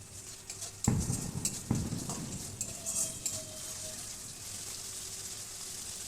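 Spices being stirred and fried in a pan for a Bengali-style pomfret fish curry, with a steady low sizzle and two sharp scraping strokes of a spoon early on, then continuous quiet frying.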